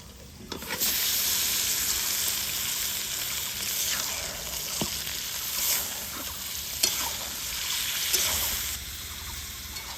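Chicken pieces and thinly sliced onions frying in hot oil for a chicken curry, a steady loud sizzle with occasional stirring scrapes and clicks of the utensil against the pan.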